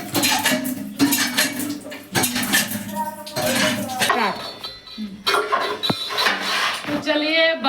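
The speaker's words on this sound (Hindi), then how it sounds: "तो चलिए बर्तन धोने के लिए आ गए हैं सरफ लेकर।" Pots, pans and steel utensils clatter and clink loudly while being washed with detergent powder, irregular metallic knocks throughout, with a voice talking over them.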